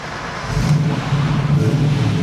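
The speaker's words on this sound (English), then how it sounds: "Oh, it's noisy here. Trucks." Heavy trucks passing close by on a road, a loud, steady low rumble that swells slightly as they go past, with no other sound standing out.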